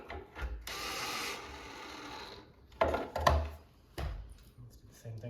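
A screw is driven into the shelf of a three-level wooden shoe bench with a ratcheting, grinding whir in several short bursts, close and fairly quiet.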